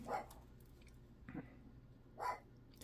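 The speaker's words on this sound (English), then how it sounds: "Barking at somebody out the door." A puppy barks a few times, spaced apart, somewhat distant against a quiet indoor background.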